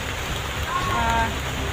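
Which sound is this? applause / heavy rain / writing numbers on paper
heavy rain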